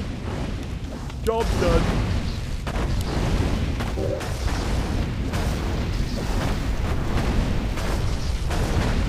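Bombs blast in Warcraft III: The Frozen Throne, in a human campaign battle: dense, rumbling explosions and bursts keep a steady loud roar, with a sharper burst early on, while someone talks over the action.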